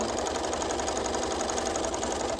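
A sewing machine runs steadily, stitching around the curve of a lined bodice's armhole seam, its rapid needle chatter humming continuously and close up.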